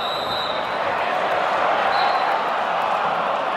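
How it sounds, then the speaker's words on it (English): Large college wrestling arena crowd at a Big Ten championship bout, a dense continuous roar of cheering and noise, loud and steady throughout the short stretch. "Let's listen into the crowd on this replay."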